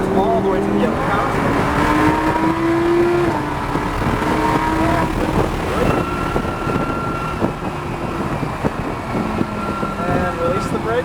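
A race car engine drones and rises in pitch as it accelerates, with steady wind and road noise throughout.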